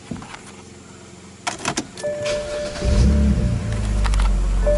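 A BMW engine fitted with a Euro-style intake cranks and catches at about three seconds, settling into a loud, steady idle close by after some earlier clicks and rustling.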